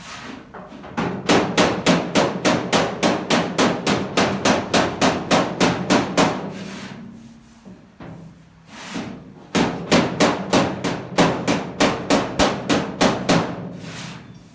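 Hammer beating dents out of a Chevy pickup body panel, rapid regular metallic blows in two long runs separated by a short pause, close and loud.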